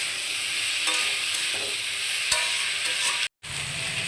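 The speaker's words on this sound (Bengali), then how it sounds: "আলুটা আমি অনেকক্ষণ ধরে ভাজা করে নিচ্ছি" Steady crackling sizzle of potatoes frying in a pan, with occasional stirring scrapes, then a brief silent gap before the frying resumes.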